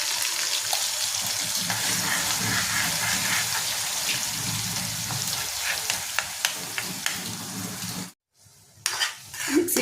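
Onion and chili paste sizzles and spatters in hot oil with cumin tempering, a dense steady frying hiss with small pops and stirring scrapes, cutting off abruptly near the end before quieter sizzling resumes.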